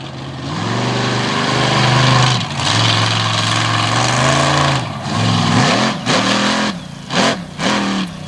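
A monster truck engine at a Bangor, Maine arena show revs hard and loud, sustained roars rising and falling in repeated surges, with short drops between blasts and crowd-scale ambience behind.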